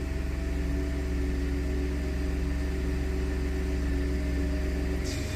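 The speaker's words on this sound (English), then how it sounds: "you can hear the transmission pump as I go through all the gears" A Ford F-150's 6R80 transmission pump runs as the truck is shifted through all its gears, a steady low mechanical hum and rumble with constant drone and faint whine, close and continuous, with no talk.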